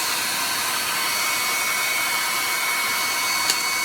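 A hair dryer blows steadily and close by, drying thinned white paint on a carved wooden chickadee, its even whooshing whine holding constant for the whole stretch with no talking.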